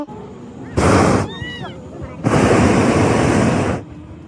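Two loud blasts of a hot air balloon's gas burner roar in bursts, one short and one longer, separated by a quiet gap with a faint voice, at Liwa, Abu Dhabi.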